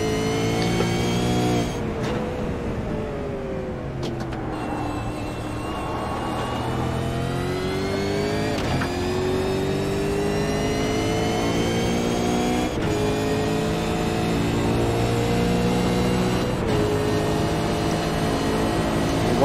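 Simulated race car engine lapping Daytona, a steady loud drone with layered harmonics and shifting pitch as it revs and changes gear, other cars' engines mixed in throughout.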